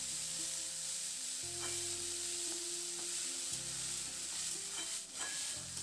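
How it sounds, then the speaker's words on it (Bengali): Shredded cabbage stir-fries in hot oil with ginger and green chili, a steady close sizzle that continues without a break while a sustained melodic tone plays faintly underneath. "এবার বাঁধাকপিটা দিয়ে একটু নাড়াচাড়া করে একটু ভেজে নিতে হবে বাঁধাকপিটাকে"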